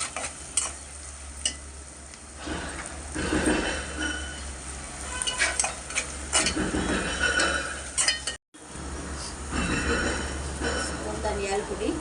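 Ginger garlic paste frying in a pan for potato korma, a steady sizzle with stirring scrapes throughout, a brief cut near the end, and a voice talking over it.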